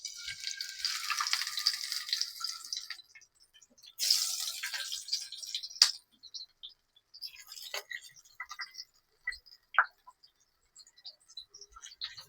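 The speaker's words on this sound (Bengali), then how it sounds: "এবার আমি বাটা মাছগুলো তেলে ভেজে নেব।" Bata fish frying in hot oil: a bright hissing sizzle flares up, fades, surges again, then breaks into scattered pops and crackles, close by with no talking.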